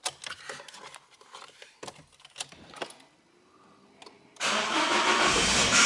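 A Peugeot 107 car engine starts: about four seconds of scattered clicks and handling noises, then the engine fires abruptly into a loud, steady idle nearby.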